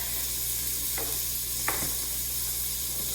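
Bacon, onion and salt sizzle steadily in a pot, a continuous close frying hiss with a couple of faint utensil scrapes.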